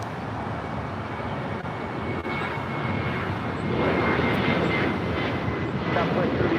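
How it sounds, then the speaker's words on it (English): A Southwest Airlines jet takes off from LAX for Dallas Love Field, its engine roar steady and then swelling louder in the second half, with voices talking faintly underneath. "This is Southwest Airlines 3278 taking off to Dallas Love Field"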